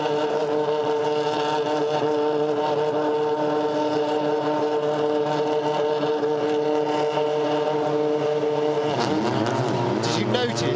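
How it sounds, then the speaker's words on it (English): Citroen touring race cars, engines held on the rev limiter at the Hungaroring circuit, produce a loud sustained buzzing drone with stuttering pulses, joined by another passing car toward the end. "Did you notice the engine noise?"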